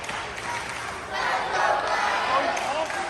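Wrestling crowd at an MCW Winter Blast Tour show cheering on Patrick Clark as he hulks up, a dense, continuous roar of many voices that swells louder after the first second and stays sustained.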